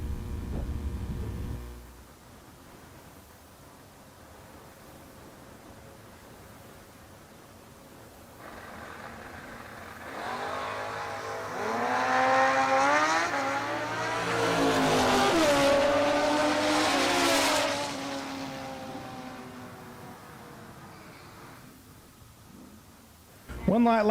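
A drag race with a motorcycle in the right lane against a Malibu car in the left, both engines revving hard and roaring past loudly before fading.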